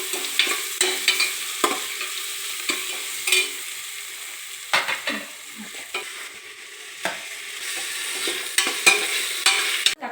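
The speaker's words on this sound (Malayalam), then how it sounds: "ഉള്ളി കുറച്ച് നന്നായിട്ട് ഇച്ചിരി ചുമന്ന കളറിൽ ഫ്രൈ ആയി വന്നിട്ടുണ്ട്" Onion, crushed ginger, garlic and green chili frying in a pressure cooker, with an irregular sizzle broken by repeated scraping stir strokes of a spoon against the pot, close and moderately loud, no talking.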